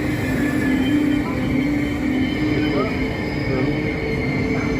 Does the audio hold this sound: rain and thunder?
no